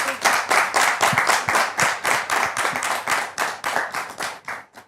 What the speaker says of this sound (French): avec des applaudissements, s'il vous plaît